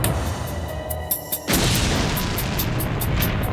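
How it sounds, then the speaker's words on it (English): A powerful package bomb goes off in an indoor hallway, a sudden loud blast that cuts in after a quieter stretch and leaves a dense, sustained roar of noise. "The blast was so powerful, it threw Fowler some 15 feet down the hallway"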